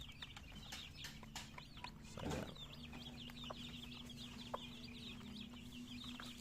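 Native chicks from Pangasinan in a pen, peeping in a continuous high chirping chorus with soft clucks, one brief louder rustle midway, fairly faint overall.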